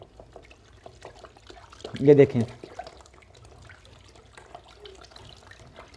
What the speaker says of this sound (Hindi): अब इसको पानी में ऐसे मिक्स करना है।